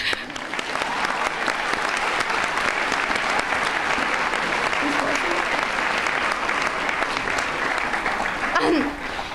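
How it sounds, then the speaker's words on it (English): A graduation audience at a school valedictorian address applauds steadily and loudly, a dense wash of many hands clapping that holds evenly throughout with no break. "So we all get a round of applause."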